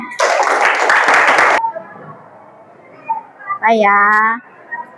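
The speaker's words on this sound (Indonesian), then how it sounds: "tepuk tangan" A short burst of classroom applause from students, a dense clatter of clapping lasting just over a second and stopping abruptly, followed by quiet room tone, then a brief voice.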